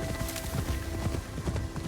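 In an Assassin's Creed video game, a horse gallops with loud, close, rapid drumming hooves, a continuous rolling beat without any talking.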